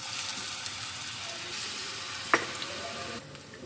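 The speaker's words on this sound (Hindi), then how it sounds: "कबाब को फ्राई कर लेते हैं।" Kebabs dipped in gram flour batter sizzle in hot oil on a tawa, a steady close frying hiss with a brief clink partway through.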